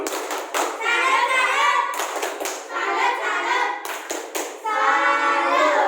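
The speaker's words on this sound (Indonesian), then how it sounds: "Tepuk tangan dulu untuk kelompok 3" Children in a classroom clap their hands together for a group of classmates, in several distinct bursts separated by short pauses, close and fairly loud.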